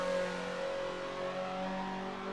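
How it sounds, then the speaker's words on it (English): A Mazda NC Super 20 with a tuned exhaust that gives it a buzzy, rotary-like note holds a steady, droning engine tone at a racing circuit, loud and close with no voices over it. "This thing sounds like it's got a mini rotary engine under the bonnet from the way the exhaust has been tuned."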